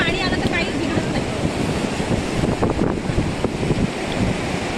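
Sea waves wash up on a beach in a loud, continuous surf roar, mixed with wind rumble on the microphone and faint voices in the background.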